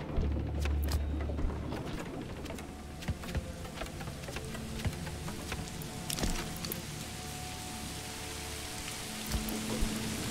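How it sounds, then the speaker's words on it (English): Rain patters steadily over a continuous hiss in the medieval village-building game Manor Lords, with scattered sharp ticks of drops and a faint buzzing insect-like hum throughout. "We have enough rain, that's not really the issue."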